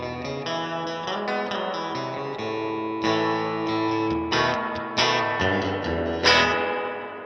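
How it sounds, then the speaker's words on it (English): Electric guitar played through a small Fender amp with its spring reverb turned all the way up to 10, ringing chords and single notes that wash out into a long, splashy tail, loud and alone with no talking. "Yeah, healthy amount of reverb on there."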